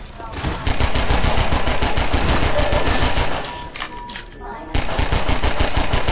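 Rapid bursts of automatic fire from the starting weapon in Half-Life 2, loud and close, with a short lull in the middle before the shooting starts again.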